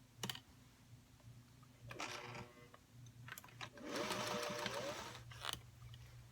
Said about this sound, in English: Take them over to my sewing machine and sew 1/4 inch.